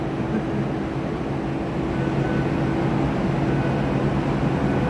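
A Seattle Link light rail train rumbles steadily through a tunnel, a loud, even low roar with a faint hum and no pauses.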